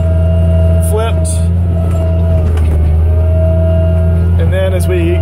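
The Tractobot02 autonomous tractor's engine drones loudly and steadily while pulling a vertical tillage tool, a continuous low hum with stable tones and a few brief squeaks and clanks over it.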